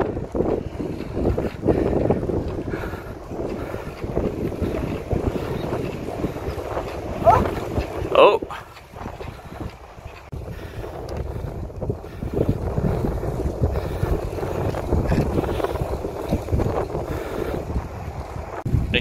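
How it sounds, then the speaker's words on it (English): Strong wind buffets the microphone continuously with low, rumbling gusts, drowning out most other sounds. "weather is still nice today, but it's a little bit windy"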